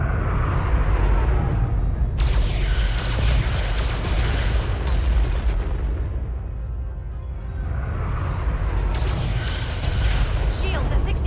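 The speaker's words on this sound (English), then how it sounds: "Fire photon torpedoes!" Photon torpedoes firing in the Star Trek Resurgence game, heavy booming blasts and rumbling whooshes that swell and fade over the full length, with voices speaking over them.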